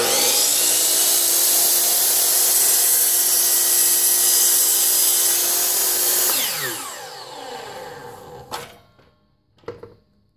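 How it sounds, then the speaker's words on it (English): A rod for hanging laundry room cabinets is sawn to length with a steady, loud, close cutting whine that runs for several seconds, then slows and stops, followed by a couple of short knocks. "Measure the gap between the sockets and cut the rod."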